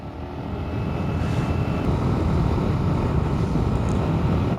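Strong outdoor wind buffeting a microphone, a steady loud rumbling roar that swells slightly and holds without pause, with no other clear sounds.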